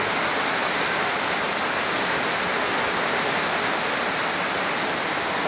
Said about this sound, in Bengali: প্রচুর ঝড় বৃষ্টি চলছে, দেখুন ঝড় বৃষ্টি প্রচুর পরিমাণে।